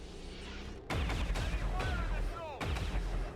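Enemy overwatch gunfire in XCOM 2, a sudden loud burst of shots with a rumbling tail, then a second blast shortly after over a tense game backdrop.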